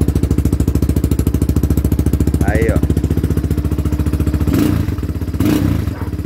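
A trail motorcycle engine starts on the first press and settles into a loud, close, rapid pulsing idle, with two short revs near the end and a faint tonal whine over it.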